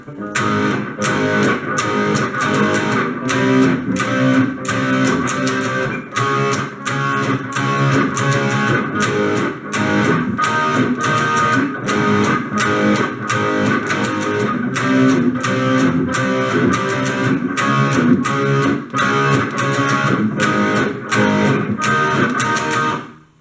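Electric guitar plays the Dearly Beloved section of a song in loud, continuous strummed chords with a steady driving rhythm for over twenty seconds, with no voice over it.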